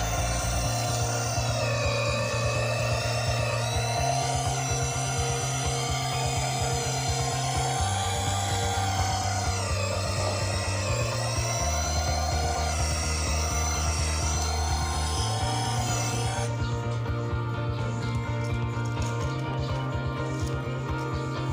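Worksite CD334H cordless drill boring into wood, a sustained whining motor drone that holds steady and shifts pitch slightly as the bit works, running alone for about twenty seconds.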